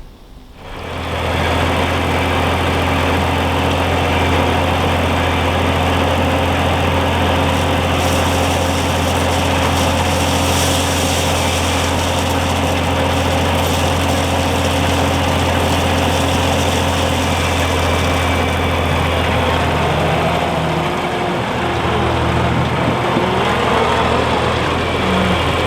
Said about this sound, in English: get the skid steer, go grab some rock